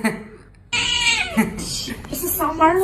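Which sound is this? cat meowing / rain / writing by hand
cat meowing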